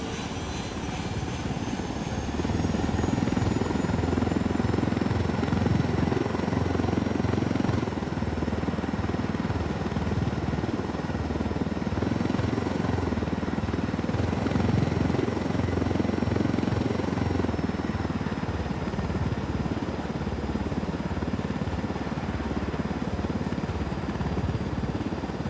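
Helicopter from the Ghost Recon Wildlands video game, a stolen cartel supply chopper, flying with a steady loud rotor and engine drone that fills the whole stretch without letup.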